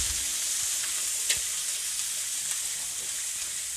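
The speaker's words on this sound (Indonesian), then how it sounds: "tumiskan semua bumbunya ini dia sudah kita masukkan" Ground spice paste for mi goreng sautéing in a pan: a steady, close sizzle hisses throughout, with a few soft scrapes and clicks as it's stirred.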